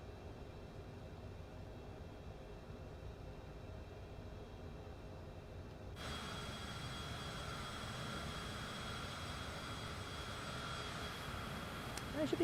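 Bombardier CRJ700 jet taxiing in Microsoft Flight Simulator 2020, a steady engine drone and broadband whoosh that steps up louder halfway through as thrust rises, with a faint high whine over the top and no speech.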